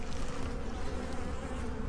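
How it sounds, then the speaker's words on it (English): Honey bees swarm and hum steadily inside an opened backyard hive during a spring inspection, a dense, close, continuous drone with no talking. "Bees, at the least."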